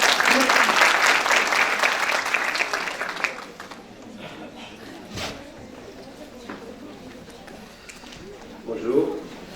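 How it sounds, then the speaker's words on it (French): An audience at a conference on adult education in Morocco breaks into loud applause that lasts a few seconds, then fades into a quiet room with scattered small sounds and speech. "Je vous demande d'applaudir"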